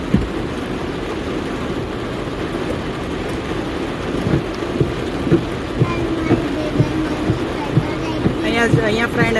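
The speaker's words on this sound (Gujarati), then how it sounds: "અહીંયા ગોવામાં વરસાદ ચાલુ થઈ ગયો છે અત્યારે." Heavy monsoon rain falls steadily in Goa outside a hotel, a dense continuous hiss with occasional louder splashes and thumps, with faint voices in the background.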